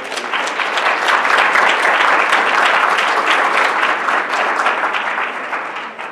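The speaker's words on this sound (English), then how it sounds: "Gives Jose and his family another round of applause." A crowd at a city school board meeting gives a loud, sustained round of applause, dense clapping holding steady for several seconds before starting to taper off.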